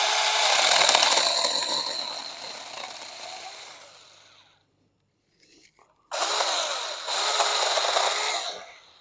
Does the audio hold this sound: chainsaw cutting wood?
yes